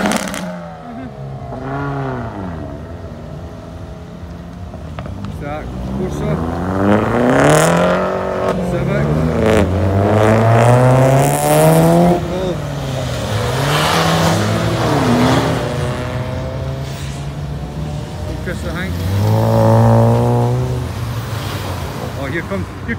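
An old Ford Sierra drives past at a car meet with loud engine revs that rise and fall in repeated sweeps, mixed with other passing cars and general outdoor crowd noise.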